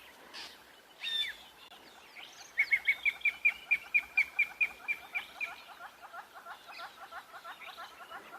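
A drongo mobbing another bird gives a series of sharp, rhythmic repeated calls, about a dozen evenly spaced notes in quick succession after an earlier isolated chirp, moderately near in a quiet outdoor setting.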